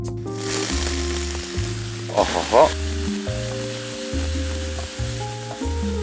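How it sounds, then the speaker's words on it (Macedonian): Garlic cloves sizzle steadily in hot oil in a small pan, a continuous bright crackle with a brief louder burst partway through, over low background music. "во другото тавче ќе додадам исто така малку масло и ќе ја додадам ченката"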